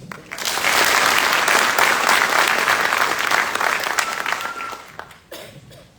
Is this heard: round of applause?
yes